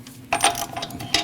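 Torque wrench ratcheting on a lug nut on a 2014-2023 Jeep Cherokee rear knuckle, a short run of metallic clicks and a final sharper click, close and distinct.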